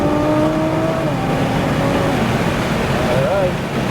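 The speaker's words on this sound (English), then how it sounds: "roll on that throttle, and accelerate as hard as you want, all the way to those yellow cones" A Nissan GT-R accelerating hard down a track straightaway, heard as a loud continuous engine and road roar from inside the car with rising tonal whine, while a person talks over it.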